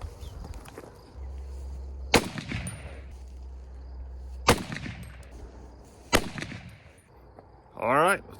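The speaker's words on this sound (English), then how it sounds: "I'm gonna take 3 more shots with those 150 grains," Three sharp rifle shots from a Remington 742 in .308 firing 150-grain bullets at a range, evenly spaced a couple of seconds apart, each a loud crack with a short echoing tail, and a brief rustle at the end.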